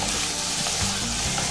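Onions frying with salt in a pan for a fish curry of bonta fish, a loud, close, continuous sizzle with faint stirring bumps.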